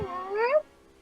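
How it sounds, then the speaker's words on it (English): A single short cat meow from the Professor Layton and the Last Specter video game, a clear rising-then-falling tone lasting about half a second, close and alone. "That cat is bloody useless."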